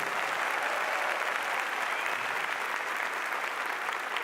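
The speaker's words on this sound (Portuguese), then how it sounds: "uma salva de palmas para o Miqueias" A crowd applauds a keyboardist at a Christian comedy show, a dense, even wash of clapping that holds steady throughout at moderate distance, with no voices.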